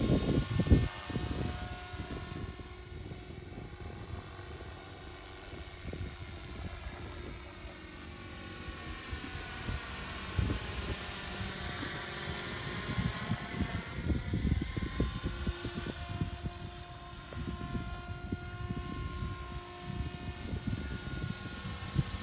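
An Align T-Rex 470 RC helicopter hovers steadily nearby, its rotor and motor giving a constant whirring drone with a high whine that rises and falls slightly over the flight, with no talk over it.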